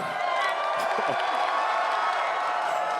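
A large convention audience at Star Wars Celebration cheers and whoops in a big hall, a dense sustained roar of voices under a brief spoken greeting from the stage.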